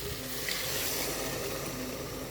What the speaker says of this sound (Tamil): இப்போ நான் கொஞ்சம் தண்ணி போடுறேன்.